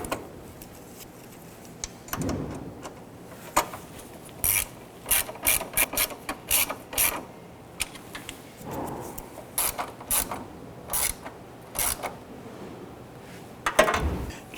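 A ratchet tightens the headlight screws on a 1997–2006 Jeep Wrangler, giving short bursts of rapid clicking repeated many times at close range over a quiet background.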